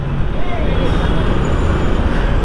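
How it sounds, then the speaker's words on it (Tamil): Steady Bangalore city road traffic rumbles nearby: a dense, continuous wash of engines and tyre noise with no pauses. "பெங்களூரில் யூஸ்வலாக எந்த டைமுக்கு வந்தாலும் டிராஃபிக்காகவே இருக்குங்க"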